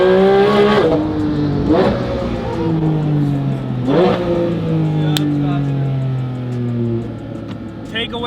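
A Porsche GT4RS with a Fabspeed exhaust revs loudly and close by. Several sharp blips rise and fall in pitch, with a voice heard over the engine.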